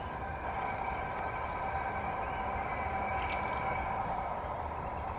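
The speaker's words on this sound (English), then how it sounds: "it's a long fucking train." A long train passes in the distance at sunrise on a hiking spot, a steady low rumble and hum of rail cars holding throughout, with a few faint bird chirps above it.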